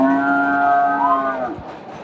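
A bull at the Chandaikona cattle market lets out a single loud, drawn-out low moo nearby that falls in pitch before fading.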